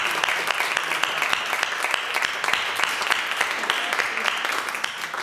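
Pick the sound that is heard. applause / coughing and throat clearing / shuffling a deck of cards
applause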